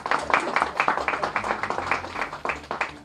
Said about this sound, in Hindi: तालियां थोड़ी कम बज रही हैं